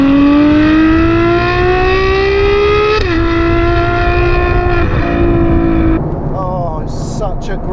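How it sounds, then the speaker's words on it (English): A Ferrari F12 TDF engine drones loudly and steadily, its pitch climbing then dropping as it shifts, with crackling pops near the end. "Oh, it's such a great sounding engine."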